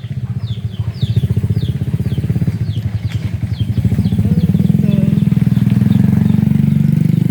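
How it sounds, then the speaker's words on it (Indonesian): A motorcycle engine rumbles steadily nearby, its low drone growing louder and fuller as it passes, with faint bird chirps above. "sebentar, ada motor lewat ya."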